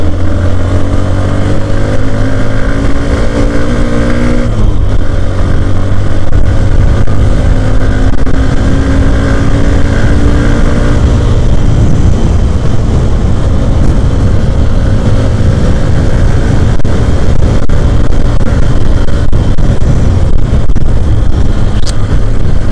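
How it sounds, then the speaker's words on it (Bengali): A Hero Xtreme 125R motorcycle engine runs loud and close for the whole stretch, revving and pulling steadily as the bike is ridden and accelerated on the road, with its pitch shifting between gears and no talk over it. "চল এখান থেকে একটু বাইকটাকে হালকা টানবো, টেনে চালানো যাক।"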